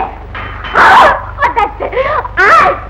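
A dog barks in a house, a few sharp, loud, close barks in quick bursts with short whimpering yips between them, from an old Tamil comedy film.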